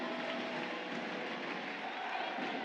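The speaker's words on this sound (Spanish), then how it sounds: "aí está o aplauso das nenas de Cangas" Supporters of a girls' cadet handball team from Cangas applaud at a women's final-four championship, a dense, steady wash of crowd clapping and cheering filling an indoor arena, with a voice talking over it.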